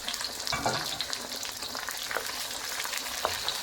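Onions, tomatoes and tamarind fry in a pan for chicken biryani, making a soft continuous sizzle with a few light stirring scrapes.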